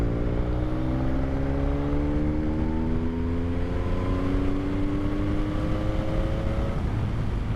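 A CFMOTO 675SS motorcycle engine roars steadily at full throttle in a high gear, a loud continuous drone with its pitch slowly rising under heavy wind noise, with no talking.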